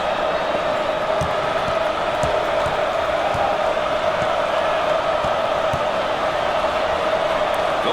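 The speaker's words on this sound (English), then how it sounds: "The crowd begins to chant." A basketball home crowd chants in a large arena, a steady roaring wall of voices carrying across the whole stretch with faint thumps of bouncing sneakers and ball underneath.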